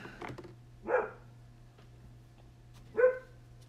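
A dog called Biscuit gives two short, sharp barks about two seconds apart, fairly close by, with a steady low hum underneath and no talking.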